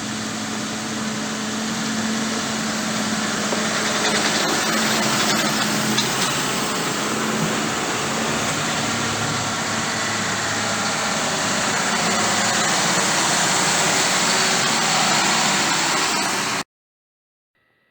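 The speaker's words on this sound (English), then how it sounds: "they also send us a little video of the tractors on the way out of the yard" A fleet of John Deere tractors driving out of a yard, with a steady engine drone and low hum running continuously under broadband wind-like noise, fairly loud throughout before cutting off abruptly near the end.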